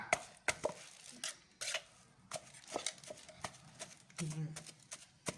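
Jaew bong chili paste being pounded in a mortar with a pestle, a run of irregular close thuds and knocks with pauses between strikes, with a person talking faintly in the background.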